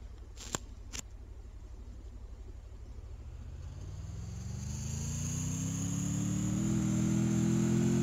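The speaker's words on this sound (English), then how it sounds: "Pretty sure I hear their car." Car engine in the video game Free Fire, a low droning hum that slowly rises in pitch and grows louder as it approaches, alone apart from two brief sharp clicks near the start.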